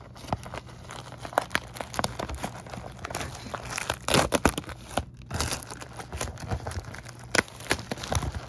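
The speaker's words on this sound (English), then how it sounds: "The box is opened." A cardboard box holding 12 packs of trading cards is torn open with repeated crinkling, tearing and crunching of packaging, close and fairly steady, with sharper rips scattered throughout.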